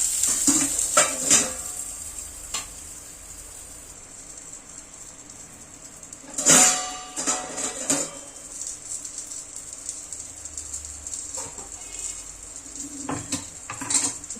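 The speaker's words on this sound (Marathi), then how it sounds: "ते वांग बघा आता मी ना चांगलं हलवून परतून घेतलेलं आणि चांगलं शिजलेलं आहे बघा" Eggplant being stirred and sautéed in a pan, with repeated scraping and clinking of a metal spoon against the pan over a faint sizzle, sharper knocks coming in scattered bursts.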